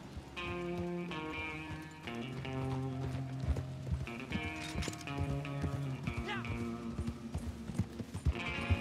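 Horse hooves clip-clop in Red Dead Redemption 2 Online, a steady trotting rhythm of close hoofbeats laid over tonal game music.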